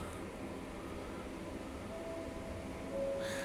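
A subway train rumbles through a tunnel beneath Crewe station at night, a steady low roar throughout that swells slightly near the end, with a faint tonal squeal rising over it.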